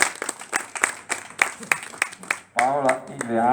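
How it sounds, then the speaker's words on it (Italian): Audience applause at an award ceremony: a scattered burst of hand claps close by, followed by a voice speaking over the last of the clapping. "fatevi un grande applauso ancora perché ve lo meritate veramente"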